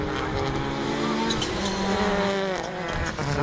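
Rallycross supercars, including Mark Higgins' car run by the National Centre for Motorsport Engineering, roar flat out toward the finish line, engines howling loud and continuous with gear-change dips and tyre noise, close and dense.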